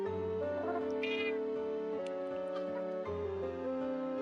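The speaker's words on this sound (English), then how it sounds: "Got a meow from him." A pet cat named Lily meows a few times, the calls sitting close against steady harmonic music playing throughout.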